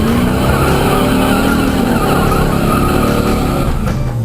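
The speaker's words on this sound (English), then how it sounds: "the first order of business is to heat up and soften the tires" A drag racing car's tires squeal and skid in a loud, continuous burnout at a drag strip, with the engine roaring underneath throughout.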